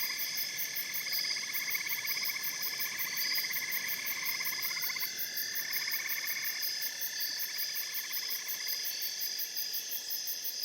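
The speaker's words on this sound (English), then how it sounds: "Listen for the sound of the frogs." A nighttime outdoor soundscape where frogs croak in a steady, pulsing chorus blended with the continuous high trilling of crickets, even and moderately quiet throughout with no voices.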